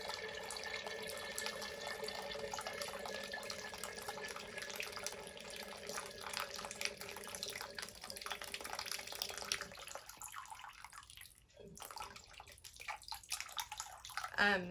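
Steady stream of water pouring from a small watering can onto a plant, running and splashing for most of the clip, then it stops briefly before resuming more faintly near the end.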